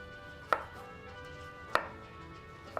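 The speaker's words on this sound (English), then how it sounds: "We're gonna cut up our tomato, and we're basically gonna cube it up too." A knife chops a tomato into cubes on a board, with three sharp, close chops spaced well apart over a quiet background.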